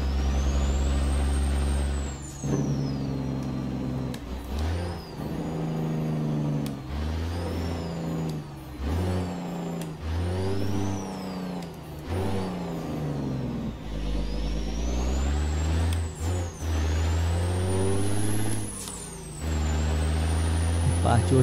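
Heavy truck engine from the Euro Truck Simulator 2 game, with deep droning and shifting engine tones, revving up and down through gear changes and short hissing air-brake bursts, loud and close, with someone talking over it.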